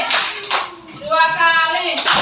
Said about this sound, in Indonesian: Tepuk 1 kali,